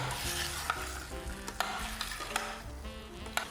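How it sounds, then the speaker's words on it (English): Potatoes frying with spices in a pan are stirred steadily, a continuous close sizzle broken by scraping utensil strokes and a few sharp clicks against the pan. "keep stirring, make sure the spice hasn't burnt or it's not cooking too much somewhere"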